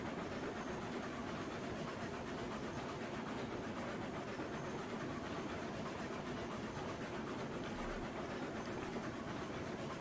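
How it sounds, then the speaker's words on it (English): A freight train rolls steadily along the track in the railway simulation game Railroads Online, a constant low rumble with a faint clatter running throughout and no voices. "So this will be the biggest train we've brought over onto this leg"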